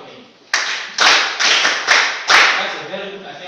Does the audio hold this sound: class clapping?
yes